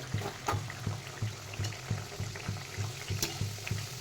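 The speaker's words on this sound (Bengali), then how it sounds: "আবার এটা তেলের মধ্যে দেবো।" Luchi, a puffy fried flatbread, cooking in hot oil: a soft bubbling sizzle with regular low pulses, fairly faint and close, with no talking.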